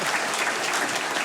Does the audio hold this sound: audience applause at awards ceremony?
yes